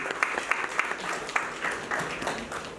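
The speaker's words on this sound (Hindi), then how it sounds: "उनके सम्मान के लिए एक ताली दे दीजिए।" Audience at a university pharmacy national conference gives a brief round of applause, steady moderate clapping from many hands lasting about three seconds with no talk over it.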